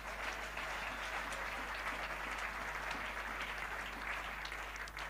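A church congregation applauds at a sermon, a continuous dense wash of clapping from many hands that holds steady throughout, fairly distant and soft.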